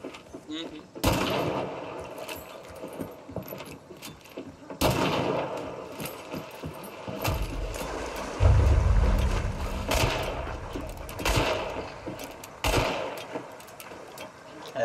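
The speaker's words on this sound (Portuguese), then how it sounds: "e o tiro não parece ser tão longe assim." Gunfire in the video game Hunt: Showdown comes as several sharp, separate shots at irregular intervals, some close and loud, others more distant, with voices talking in between.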